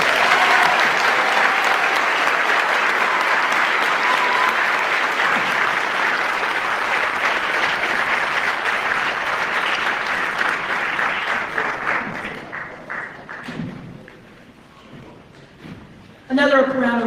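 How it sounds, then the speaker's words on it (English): An audience applauds steadily at a public housing panel with the Montana governor in Great Falls, the clapping tapering off near the end before a voice speaks over the last moments. "Another round of applause."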